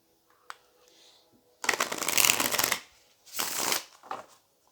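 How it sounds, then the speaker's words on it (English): Tarot cards shuffled close by in two bursts, a long riffling rush followed by a shorter one, with a soft tap just before and quiet pauses between. "Let's go ahead and pull some cards here for you"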